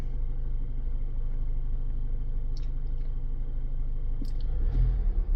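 A Mazda CX5 with a cylinder 4 misfire runs with a low, steady engine rumble, close up, rising briefly under a little throttle near the end, with faint ticks over the drone.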